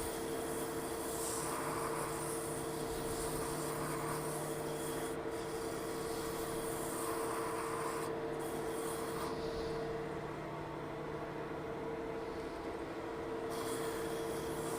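Sandpaper rubs against a wooden Christmas orb spinning on a lathe as it is worked through the grits, a steady scratchy rasp over a low motor hum, with brief pauses as the paper lifts off.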